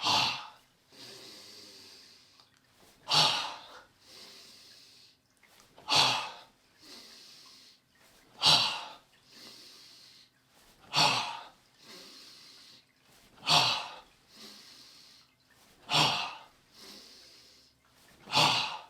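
Slow, deliberate breaths during a tai chi exercise, each long inhale and exhale rising and falling in a steady cycle of about eight audible breaths, close and clear with no talking.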